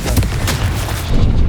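Confringo blast spell explosions from Hogwarts Legacy, a loud continuous booming barrage with repeated bursts rolling over one another, heavy low rumble throughout and no talking.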